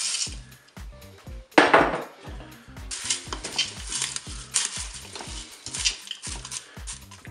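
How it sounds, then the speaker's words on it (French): Spaghetti goes into a Cookeo pot with a rattling clatter, then a utensil stirs it, giving repeated scraping knocks and clinks against the metal bowl, close and clear with no talking. "Je vais ajouter maintenant les spaghettis."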